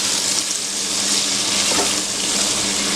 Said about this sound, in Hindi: इसमें around half a cup water add करेंगे और इसको ढक के कुक करेंगे